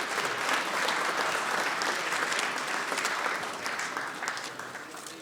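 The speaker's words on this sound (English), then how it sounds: "Give yourselves a round of applause." Audience at a pool tournament, a One Pocket match at the Derby City Classic, applauding steadily and loudly throughout, the dense clapping easing slightly toward the end.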